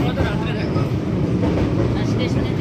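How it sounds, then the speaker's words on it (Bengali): Steady low rumble inside the moving Tista Torsa Express (13142, New Cooch Behar to Sealdah), continuous carriage noise with faint rail rattle throughout, with a voice faintly mixed in. "ট্রেন দেখছো না, বাইরে থেকে ট্রেন লাগে একরকম,"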